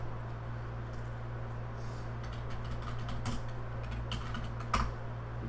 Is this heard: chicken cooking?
no